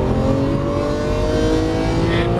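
Lamborghini Aventador LP700-4 accelerating hard on a race track, a loud sustained engine roar with rising harmonic tones close to the microphone.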